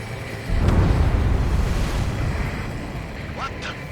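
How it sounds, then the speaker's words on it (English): A deep underwater explosion in the Ace Combat 7 video game, heard as a sudden loud low rumble that swells and lingers like rushing surf, with faint engine or wind noise underneath. "A huge explosion just went off underwater."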